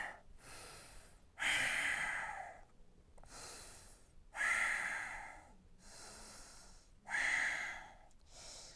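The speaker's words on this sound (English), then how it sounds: "Deep breath in, lift the chest. Exhale, let's fold back down." Slow, deep breaths during a live yoga class: three strong inhale-exhale cycles, each a breathy rush followed by a quieter pause, close up with no talking.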